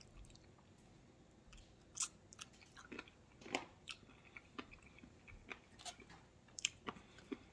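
Close, wet crunching and chewing of crunchy fried chicken wings, with irregular bites and crackles spread across several seconds, no talking.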